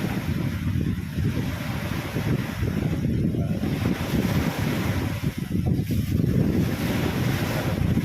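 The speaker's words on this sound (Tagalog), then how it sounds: "Lakas yung current ng tubig." Strong sea current and waves surge steadily and loudly at a fishing spot, with heavy wind buffeting the microphone throughout and no voices.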